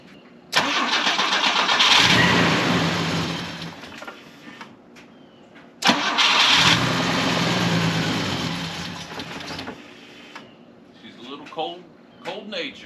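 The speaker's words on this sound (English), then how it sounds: "hop inside, try to start her up real quick" A 50-year-old Volvo 164E is cranked twice, each attempt a loud, close starter grind lasting several seconds with a short pause between. A brief quieter engine rumble follows.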